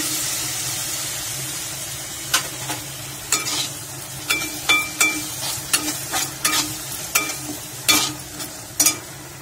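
Tomato frying and being stirred in a pan for desi-style macaroni pasta: steady sizzle with a series of sharp spoon scrapes and clacks against the pan, close and clear, no talking.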